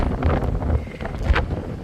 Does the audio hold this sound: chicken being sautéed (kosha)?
no